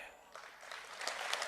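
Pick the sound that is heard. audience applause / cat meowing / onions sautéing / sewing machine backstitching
audience applause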